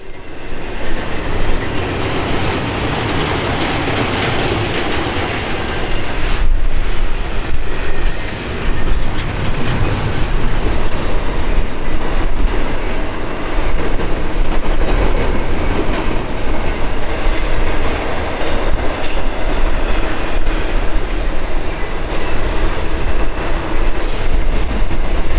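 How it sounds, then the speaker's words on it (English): A loud eastbound Norfolk Southern intermodal freight train roars past up close in the Allegheny Mountains, a continuous rumble of wheels and rattling cars with occasional metallic squeals. "an eastbound intermodal train races past to begin its climb into the heart of the"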